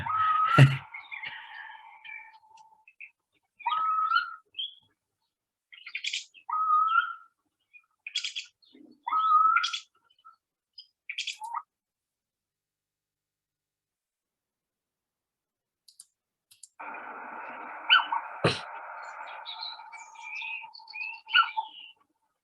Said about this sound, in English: lots of wonderful little sounds that come from the little owls